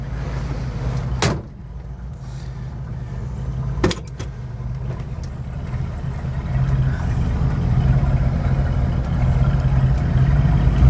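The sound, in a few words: Ford 302 V8 engine idling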